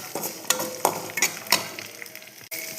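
Garlic and sesame seeds sautéing in oil over low heat, a soft continuous sizzle broken by a few sharp scrapes and stirs of a spoon against the pan, close and steady with no voices.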